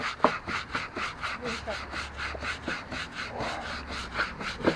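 A handheld scrubber works over a dirty wood deck in steady back-and-forth strokes, a rhythmic rasping scrub repeating about twice a second at close range, with faint thuds and background noise.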